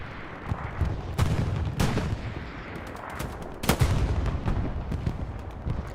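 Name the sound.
explosion and artillery fire in the video game Hell Let Loose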